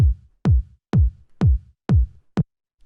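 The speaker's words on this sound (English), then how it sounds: "The first sound we have here is the kick, which sounds like this." A punchy, hard-hitting minimal house kick drum hits six times at a steady dance tempo, each thump deep and short, with silence between beats.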